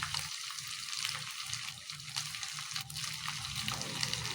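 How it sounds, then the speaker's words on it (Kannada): Chicken manchurian pieces frying in hot oil over a low flame give a steady, close crackle and hiss, with an uneven sputter and faint low background noise. "ಲೋ ಫ್ಲೇಮಲ್ಲಿ ಇಟ್ಕೊಂಡು ಫ್ರೈ ಮಾಡ್ಕೊಳ್ರಿ ಇದನ್ನು."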